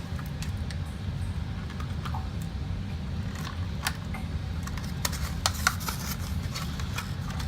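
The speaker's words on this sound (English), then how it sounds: "heater coming on in here." A room heater runs in the background as a steady low rumble, with scattered light clicks and taps on top and no talking.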